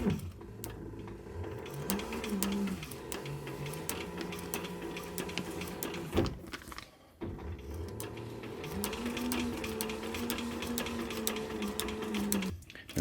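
A sewing machine stitches a leather pillow in quiet, close runs of rapid rhythmic clicking, with a pitch that rises and falls as the speed changes and a short pause in the middle.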